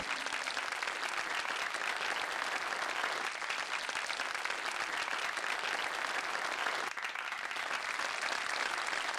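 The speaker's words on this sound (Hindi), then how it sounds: "तालियों से स्वागत कीजिए प्लीज" A fashion show audience claps to welcome the opening show-stopper model on the runway, a continuous, even stretch of many hands heard at moderate distance and fairly low level.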